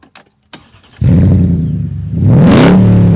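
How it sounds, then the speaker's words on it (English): A Mercedes B55 with 388 horsepower on the Rastatt racetrack fires up after a few clicks, settling into a loud, close idle before a sharp rev swells the engine note. "Let me fire up the engine."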